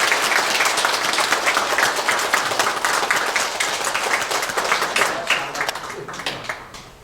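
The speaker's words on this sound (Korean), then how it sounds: "큰 박수 부탁드리겠습니다." Audience at a Buddhist Dharma gathering breaking into loud, sustained applause, many hands clapping densely before gradually thinning toward the end.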